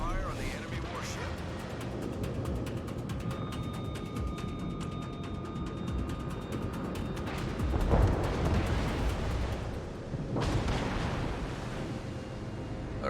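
Naval gunfire in World of Warships from a German Tier II V-25 destroyer battle: repeated booming shots and distant rumbling impacts over a steady background of engine and sea noise, with voices speaking at times.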